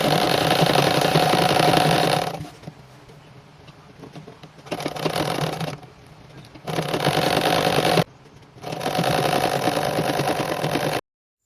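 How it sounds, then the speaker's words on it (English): A sewing machine stitching a pencil dress whirs steadily in loud runs, stopping briefly between passes, with a few quieter gaps where the motor pauses. "took it to my machine, changed the thread, and then I sewed it all the way down to the end of the dress"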